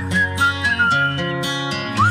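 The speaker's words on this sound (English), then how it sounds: "I want to hear the whistles go crazy right now." Whistles blown by a club-night crowd, loud pitched toots and short trills repeating over pounding dance music, close and busy.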